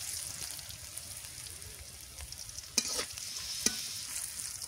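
Garlic and chili fry in oil until reddish, giving a soft, low sizzle with a couple of sharp stirring taps. Quiet and close, with no speech.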